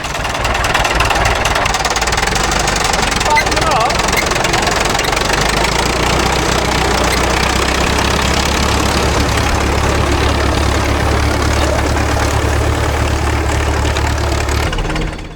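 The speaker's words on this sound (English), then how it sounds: "This crawler tractor is a Fiat 55L." A Fiat 55L crawler tractor idles steadily, its engine giving a continuous low, knocking rumble at close range for the whole stretch with no voices.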